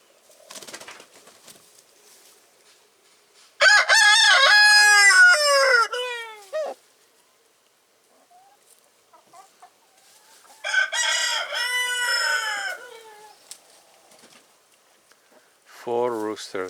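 Roosters crow loudly at close range in repeated long calls, one starting as another ends, with softer clucks and a brief voice in the quiet gaps, and a final crow beginning at the end.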